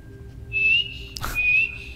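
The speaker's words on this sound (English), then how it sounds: "I can whistle at you" A player character whistles in the video game Skyrim, two short, clear whistled notes split by a brief noisy burst, close and alone over a low background hum.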